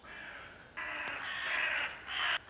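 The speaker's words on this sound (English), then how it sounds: "this bird is just not letting me do my stuff" A crow caws in loud, harsh bursts, three calls in a row with brief gaps, close by and clear against quiet surroundings.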